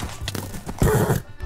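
Horse hooves clip-clopping in the Minecraft video game, a few quick, close hoof clops followed by a short burst of horse whinnying.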